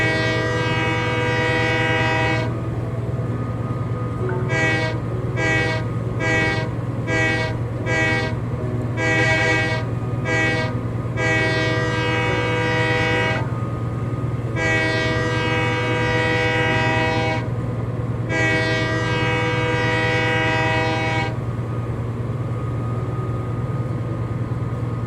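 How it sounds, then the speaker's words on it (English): A very long cargo train in the Train Life game, its horn blaring in a long blast, a run of short rapid toots and two more long blasts over a steady low rumble of rolling wagons, with no voices. "Pulling a really long train of nothing but cargo."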